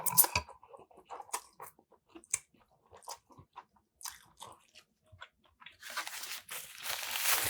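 Someone bites and chews beef ramen noodles up close, with soft wet crunches and squishy bites coming in irregular bursts, then a louder rustling wash near the end, with no talk.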